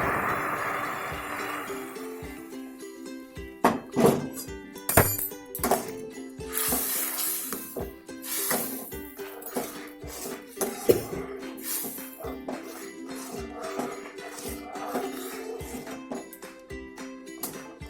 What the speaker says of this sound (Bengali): এবার আমরা ডালটাকে ঢেলে দেবো